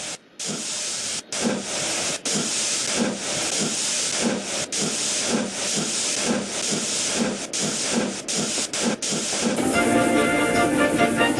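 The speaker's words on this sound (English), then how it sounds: "the guard blew his whistle, and Gordon was off again." A steam locomotive hisses and chuffs in a steady rhythmic beat, then the guard's sharp whistle cuts in near the end over a rush of steam.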